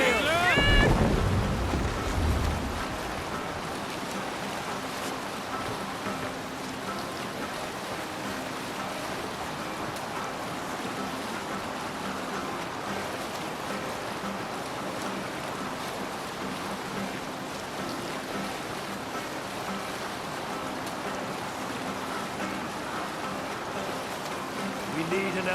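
Viking longship under sail on open sea in Assassin's Creed Valhalla, off the coast of Ireland: a steady wash of waves and wind rushing past the hull, with a louder splash or voice at the very start, then continuous moderate roar.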